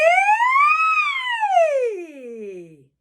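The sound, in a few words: singer's voice imitating a siren in a vocal exercise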